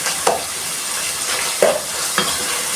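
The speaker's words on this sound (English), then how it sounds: "Now my minced meat is already separated. It's cooking well." Minced meat with peas fries in a pan, giving a constant bright sizzle broken by three quick scraping stirs of a spoon against the pan.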